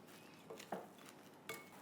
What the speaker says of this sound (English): And give it another stir through.